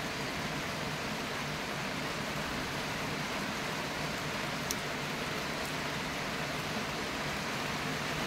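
Heavy rain falls in a steady, dense hiss that holds evenly for the whole stretch, loud and close with no breaks and no voices.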